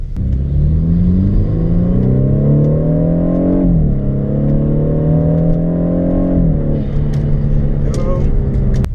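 A BMW 428i with its drive mode set to Sport accelerates hard close by, engine and exhaust climbing in pitch through two gear changes with a brief dip between, a throaty loud drone throughout.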